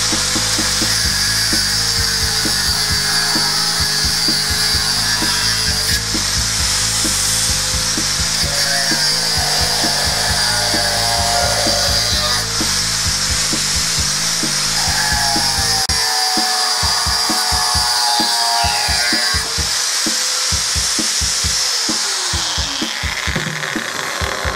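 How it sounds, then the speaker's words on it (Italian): An angle grinder whines continuously as it cuts, its pitch shifting slightly under load, with a low electrical hum through the first part. "Come vedete, il flessibile fa il suo dovere"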